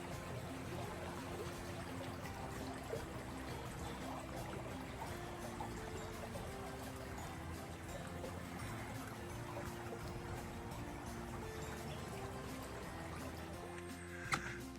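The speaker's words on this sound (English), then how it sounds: "There's a creek running here." Along a forest trail near Tofino, British Columbia, a creek runs with a faint, steady trickling wash that continues without any talking.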